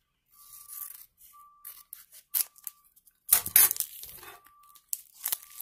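A shiny sticker packet from a Champions League sticker collection is carefully opened up close, with soft crinkles, scrapes and a few sharper tearing bursts between quiet pauses.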